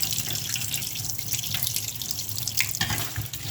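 Tap water runs steadily over raw goat liver in a kitchen sink, a continuous splashing stream with brief drips and handling noises, close and moderately loud.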